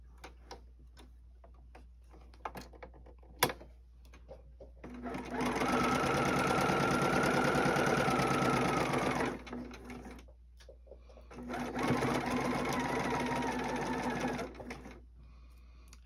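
Sewing machine stitching a quilt block in two bursts, each a steady mechanical whir lasting several seconds with a short pause between, close and fairly loud above faint clicks and handling noise.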